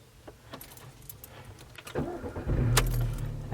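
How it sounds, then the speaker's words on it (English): Keys jangle near the ignition, then the car's engine cranks and starts at around the midpoint, settling into a steady low idle close by. "if I start the car"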